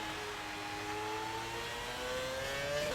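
Classic Formula 1 car engine in the F1 2020 racing game, revving high and steady with a rising whine that climbs gradually, loud and continuous with no talking.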